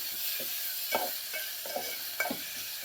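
Diced tomato frying with onion in a pan, a steady soft sizzle with a few louder stirring scrapes and clatters spaced through it, close and fairly quiet, no voices.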